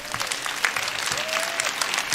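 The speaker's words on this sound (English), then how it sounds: "Let's give them all a round of applause." A crowd at the EA Play game showcase applauds, dense clapping throughout with scattered whoops and a faint sustained tone in the room.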